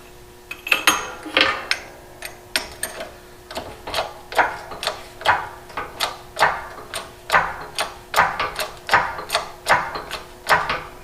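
A hydraulic jack pressing wheel studs is pumped in a steady run of ratcheting clicks, about two per second, each crisp and close, continuing evenly for the whole stretch.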